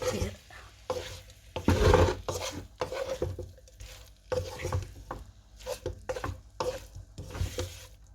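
Potato filling for bondas is stirred in a pan with a spatula, making repeated scraping strokes over a light sizzle, loud bursts of stirring broken by short pauses, close up with no talk.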